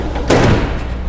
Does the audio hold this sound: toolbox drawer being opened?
yes